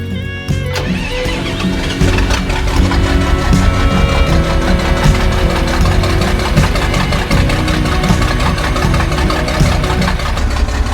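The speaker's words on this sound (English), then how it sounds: "I love the way the straight pipe exhaust sounds like an 18-wheeler, like a Peterbilt." A John Deere 4240 tractor with a straight pipe exhaust cranks and fires, then settles into a loud, steady, rumbling idle that runs without a break, close by and with no talking.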